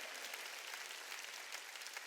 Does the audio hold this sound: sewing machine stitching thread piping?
no